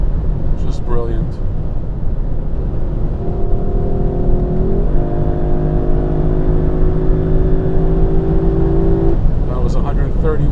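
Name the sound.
Lexus LC500 Convertible accelerating at high speed in Sport mode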